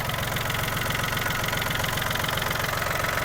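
A Yanmar US-31D mini tractor's 31-horsepower diesel idles warmed up, a steady close rumble with an even rapid knock pulsing throughout and no voices.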